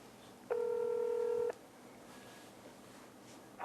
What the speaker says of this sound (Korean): 전화 연결 한번 해볼게요